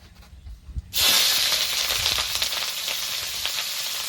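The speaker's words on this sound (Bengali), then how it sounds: "এবার কেটে রাখা পেঁয়াজ আর কাঁচা লঙ্কা দিয়ে দেবো তেলের মধ্যে" Sliced onions and green chillies hit hot oil after a quiet moment, bursting into a loud, close sizzle that settles into steady frying with light crackles.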